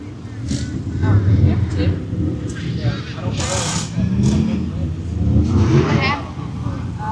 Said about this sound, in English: So he has a misfire.